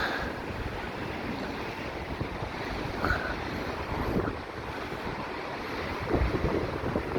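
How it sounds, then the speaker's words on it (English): Strong, cold wind gusting along Blackpool promenade with waves surging against the sea front, a continuous roaring rush that buffets the microphone and swells in places, with no voices. "it was so windy."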